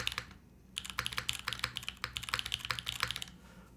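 Typing on a tray-mount mechanical keyboard fitted with Holy Panda switches: fast, close, clacky keystrokes in uneven bursts with a short pause near the start, with no talk.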